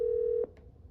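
A single steady keypad tone sounds briefly from a Cisco 8851 IP phone as an extension number is dialed, then cuts off into near silence.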